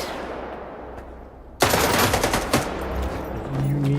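Loud rapid gunfire erupts suddenly in STALKER 2 as enemies are shot, a dense burst of shots followed by scattered echoing reports that trail off.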